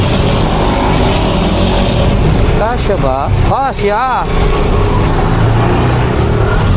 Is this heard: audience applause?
no